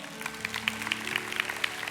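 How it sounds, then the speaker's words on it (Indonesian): A congregation at a Sunday church service claps in a quick, even rhythm, brief and fairly close, with no voices. "kasih tepuk tangan untuk Tuhan Yesus"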